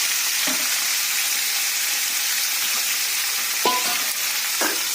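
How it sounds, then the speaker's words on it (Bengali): Steady sizzle of fish frying in a pan with cumin, with occasional stirring scrapes and brief bursts as water is splashed in, continuous and fairly loud with no talking. "এবার একটু মেরে এটা একটুখানি ধুয়ে জল দিয়ে দেবো"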